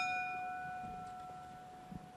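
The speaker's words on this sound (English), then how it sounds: "at the sound of the bell" Boxing ring bell at a professional super middleweight bout, a single loud metallic strike with a long clear ringing tone that slowly decays, followed by faint arena murmur.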